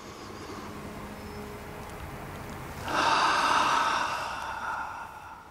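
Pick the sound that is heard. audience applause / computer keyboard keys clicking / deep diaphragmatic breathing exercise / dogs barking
deep diaphragmatic breathing exercise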